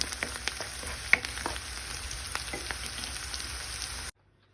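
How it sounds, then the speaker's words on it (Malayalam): Onions frying in a pan with fennel seeds, a steady close sizzle broken by a few sharp clinks and scrapes of stirring, with no talk, ending abruptly in silence. "നമ്മുടെ സവോളയൊക്കെ നല്ലപോലെ ഫ്രൈ ആയിട്ടുണ്ട്"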